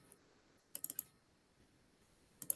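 Quiet typing on a computer keyboard as a terminal command is entered: a quick burst of three or four clicks, a pause, then another short cluster of keystrokes, close and otherwise silent.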